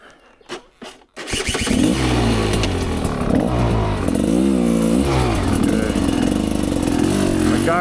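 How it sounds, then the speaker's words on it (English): ORV dirt bike on a Michigan trail coughing through a couple of short failed start attempts, then catching and roaring steadily up close with loud, sustained engine revving to the end. "bike don't want to start"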